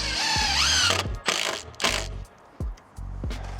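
A ratchet tool backs screws out, giving a close buzzing whir that rises in pitch, then several short bursts of mechanical ratcheting with brief pauses between them.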